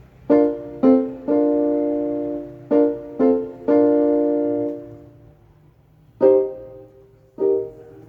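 Piano chords sound one at a time in a slow rhythm, some held and ringing out, others short, played alone with no talking.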